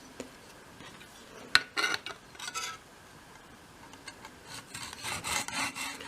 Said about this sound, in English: I'm using the mitre cutter or the block and saw rather than the handheld one, as you get a straighter cut